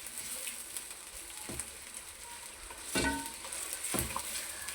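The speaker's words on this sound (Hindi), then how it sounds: "ये जैसे जैसे फ्राई होगा अदरक और सब्ज़ मिर्चें" Ginger and green chilies fry in oil for a ridge gourd and chana dal dish, a soft continuous sizzle broken by three louder scraping stirs, with no voices.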